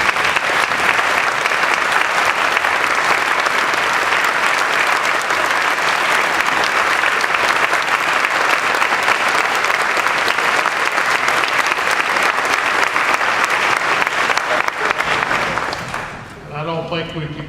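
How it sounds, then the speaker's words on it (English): A large audience at a Catholic school commencement claps steadily and loudly for about fifteen seconds before the applause fades and a voice begins speaking. "please stand and let's give them a round of applause."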